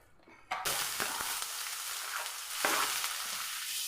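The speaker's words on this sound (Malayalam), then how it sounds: "അതിനോടൊപ്പം തന്നെ രണ്ടല്ലി വെളുത്തുള്ളി നല്ലപോലെ ഒന്ന് വഴക്കിയെടുക്കാം" Two cloves of garlic sautéing in coconut oil in a pan: a loud, dense sizzle bursts in after a brief quiet start and hisses on continuously, with a few faint stirring scrapes and no voices.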